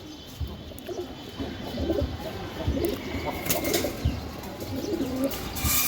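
Soft, repeated cooing of a pair of long-flying Giribaz pigeons fills a loft, with low throaty calls rising and falling and brief rustles of movement nearby.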